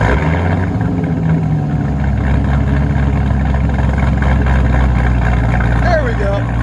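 A Hennessey-tuned 800 hp Chevy Corvette ZR-1 with a supercharged 6.2L V8 and true dual exhaust, idling with a loud, deep, steady burble close by, voices talking over it.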